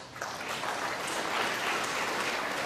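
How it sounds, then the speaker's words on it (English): A snooker crowd breaks into warm, sustained applause for Ronnie O'Sullivan, a dense, even patter of clapping hands filling the arena for a few seconds. "Getting a terrific reception from this crowd here."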